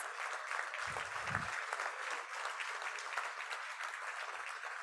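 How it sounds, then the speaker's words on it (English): Audience applause at a community music center's centennial gala fills the room steadily and evenly for the whole stretch, with a brief low thump near the start. "give her a round of applause"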